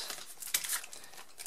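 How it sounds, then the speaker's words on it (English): Plastic bags crinkling while board game components are unboxed, bright scattered rustles and a few sharper crackles, close and fairly quiet, with no speech. "There's a bunch of plastic bags."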